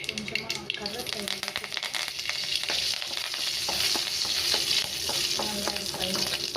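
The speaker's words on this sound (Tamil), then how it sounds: "கடுகு உளுந்து சேர்த்துக்கலாம். நல்லா பொரியட்டும்." Mustard seeds and urad dal frying in hot oil for a tempering, a crackling sizzle full of quick sharp pops that grows denser and louder, with brief stirring sounds.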